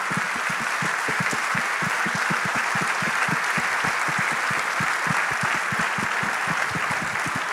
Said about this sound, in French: Let's give the Lord a great hand clap for Europe.